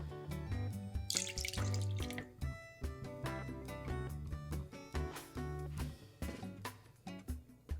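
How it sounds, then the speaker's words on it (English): Red wine vinegar, about 100 ml, is poured into a container, a close, gurgling, dripping splash that runs in uneven bursts and trails off into drips. "A 100 mils of red wine vinegar."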